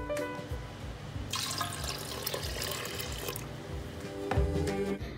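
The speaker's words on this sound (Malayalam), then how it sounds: "1 ഗ്ലാസ് വെള്ളം കൂടെ ഒഴിച്ച് കൊടുക്കുന്നുണ്ട്" Water is poured into milk in a pressure cooker for payasam, with splashing and gurgling that surges loud partway through, separated by clinks of the pot and utensils.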